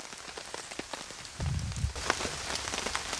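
Rain pattering on a campsite tarp during a bushcraft camp, a steady close patter of drops with heavier gusts of rainfall midway, no voices.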